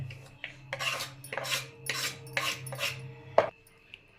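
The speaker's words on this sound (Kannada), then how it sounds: "ಸಣ್ಣ ಸಣ್ಣದ ಕೊತ್ತಂಬರಿನ ಕಟ್ ಮಾಡ್ಕೊತಾ ಇದ್ದೀನಿ ಇವಾಗ." A knife taps and scrapes on a board while coriander is finely chopped, roughly half a dozen uneven rhythmic strokes at close range ending in a sharp clink.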